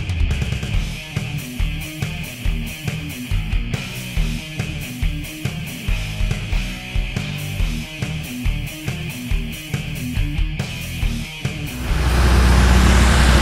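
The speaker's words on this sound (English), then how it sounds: "Now this is how the car is supposed to sound." A tuned car engine idling and revving in repeated rhythmic pulses, close and loud, ending in a sustained heavier roar.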